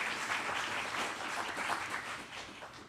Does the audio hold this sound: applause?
yes